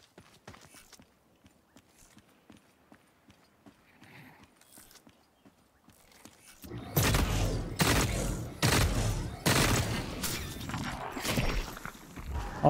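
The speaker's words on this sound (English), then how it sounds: "I also hear shots close to the pinnacle lab." Gunfire in the shooter The Cycle Frontier: quiet, scattered far-off pops come first, then a loud burst of rapid close shots with rumbling echoes.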